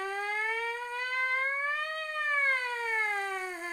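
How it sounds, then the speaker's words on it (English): A trumpet mouthpiece buzzed alone as a siren, a clear, steady tone sliding up to a peak and back down in one smooth sweep. "We talked about mouthpiece sirens."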